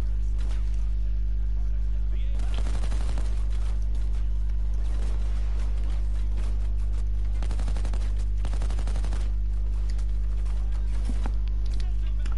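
Gunfire in the video game Payday 2, several bursts of rapid shots spaced out over a constant low droning hum, with faint talk.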